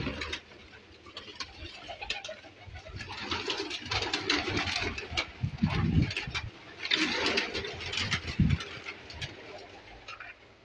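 Pigeons cooing at a pigeon show, low soft coos rising and falling in overlapping bursts, fairly close, with ticking and light background noise.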